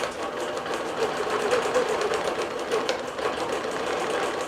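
Longarm digital quilting machine stitching an edge-to-edge pattern across a quilt, giving a steady, fast mechanical whir and rapid needle chatter that holds at a constant close level throughout without pause.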